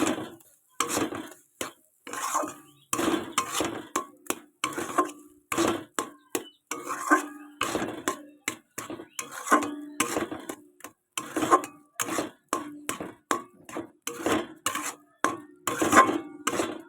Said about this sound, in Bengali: এটাকে নাড়তে থাকতে হবে এটা আবার পুরো টাইট টাইট করতে হবে নেড়ে চেড়ে নাড়া চাড়া দিতে হবে ভালো করে